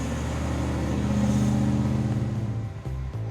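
A car engine hums with a steady, tonal drone that swells slightly, then shifts and fades near the end, loud and close without any talking.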